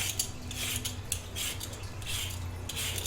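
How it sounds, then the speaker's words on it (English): A knife peeling potatoes in a home kitchen, with soft repeated scraping strokes in an uneven rhythm, close and fairly quiet with a low hum behind. "we're going to peel before we slice"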